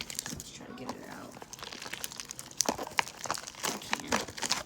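Crunchy slime crackles and pops as it is squished, sharp bursts of crinkling with quiet low talk mixed in.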